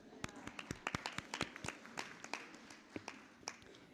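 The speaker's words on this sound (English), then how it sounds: "Round of applause" Audience applause at a Pentecost morning church general assembly, heard as scattered individual claps of moderate loudness over roughly four seconds, with no voices in the clip.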